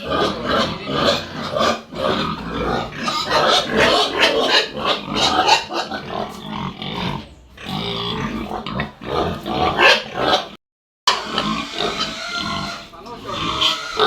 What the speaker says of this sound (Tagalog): Bayan na po't nagkagulo na yung mga baboy.